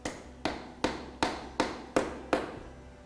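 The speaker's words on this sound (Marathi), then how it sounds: "हॅमर नाही मिळाली म्हणून आम्ही केळ्याने पण खिळा ठोकतो" A frozen banana hammers a nail into wood, seven sharp, evenly spaced knocks, each ringing briefly and decaying, close up with no talk.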